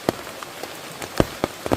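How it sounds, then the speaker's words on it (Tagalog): Scattered raindrops tapping on a surface, a few sharper drips standing out over a soft, steady patter. "Umuulan kasi."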